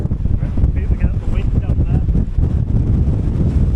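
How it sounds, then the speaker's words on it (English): Strong wind buffets the microphone outdoors on Hadrian's Wall, a loud, continuous low rumble with gusty bursts, and a voice speaks briefly under it. "The wind's that strong it actually blew my hat off"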